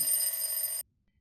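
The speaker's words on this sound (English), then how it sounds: "She pressed it and the ringing started up again." A hidden bell set off by a concealed button rings in one steady, bright burst of under a second, then stops abruptly into silence.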